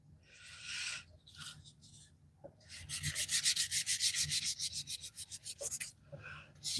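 Sandpaper rubs over rough patches in a few short strokes, then settles into a long run of quick, rhythmic back-and-forth scrubbing, close and fairly soft, with brief pauses and taps in between.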